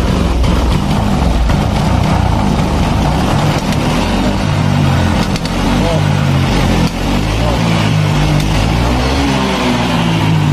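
A Honda Vario 150 scooter engine, long unserviced, is revved near the mic, its steady drone stuttering and hesitating when the throttle is snapped, while someone talks over it.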